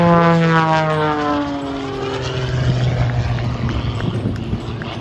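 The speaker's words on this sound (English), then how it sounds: "And now he holds the airplane just above the stall speed upside down as he unwinds the airplane on that 45-degree line." A propeller-driven aerobatic airplane flies inverted near stall speed at an air show, its engine drone loud and steady with shifting pitch as it passes, plus some wind noise and no talking.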